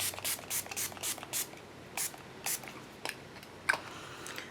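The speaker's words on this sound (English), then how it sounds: "I am going to set it with some setting spray, and again I'm using the now I'm using the Milani Make It Last." Quick bursts of Milani Make It Last setting spray misted from a pump bottle, about a dozen short hissing puffs in an uneven rhythm, close and fairly quiet, with no talking.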